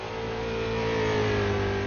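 A race car's engine running steadily on track during a qualifying lap, a continuous mid-pitched drone with a slowly falling tone, loud and close throughout with no voices.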